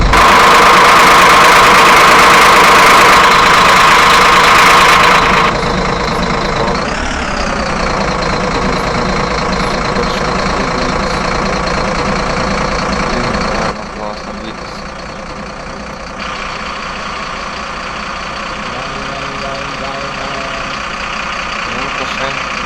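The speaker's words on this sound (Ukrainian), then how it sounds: "Ось до нас трактор." A tractor engine idling in the Simple Sandbox 3 game, a continuous loud rumbling drone with a brief pitch rise and a later drop in level, with speech at points.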